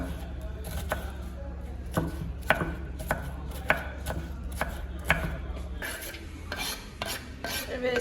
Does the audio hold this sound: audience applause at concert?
no